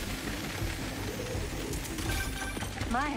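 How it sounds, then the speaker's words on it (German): A pigeon coos in Marvel's Spider-Man 2 video game, soft throaty calls over a steady ambient game backdrop, with a brief rising warble near the end. "Da ist eine Taube, oder was?"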